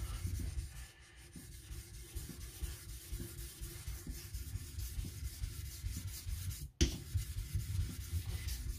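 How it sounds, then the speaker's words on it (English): A petty knife is worked on a whetstone, removing metal and thinning behind the edge, giving a steady near rasping scrape in repeated strokes with one sharp knock near the end. "You see the stone is completely black, it's removing plenty of metal"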